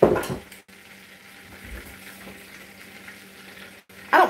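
Butter sizzling in a hot pan, a low soft frying hiss running steadily between louder bursts of clatter from a pot or spoon at the start and end.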